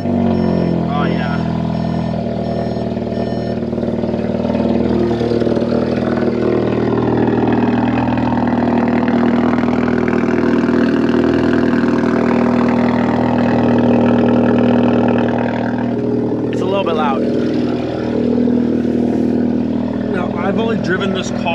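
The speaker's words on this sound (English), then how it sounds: "we'll get you guys a nice little cold start here. See how she sounds." A turbocharged 1.8T Volkswagen Golf Cabrio engine cold-starts and settles into a loud, steady idle hum, with people talking over it and a brief rise in engine noise near the end.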